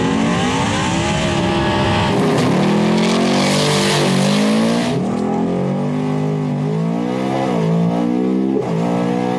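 Ford F150 4WD trucks with a stock motor racing: loud, close engine roar with repeated rising revs through gear changes, a sharp launch surge, and strained high-pitched acceleration throughout.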